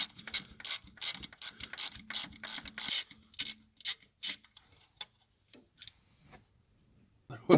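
Ratchet fitted with a 10mm socket working loose an alternator stud nut on a '94-'02 Dodge Cummins, a run of quick close clicking bursts that thins into sparse separate clicks toward the end.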